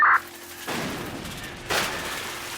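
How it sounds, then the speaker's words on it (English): Bursts of gunfire and blasts come in two harsh, noisy surges, thin and compressed through a radio speaker, with a steady hum between. "sounds of gunfire and explosion blast through the speaker"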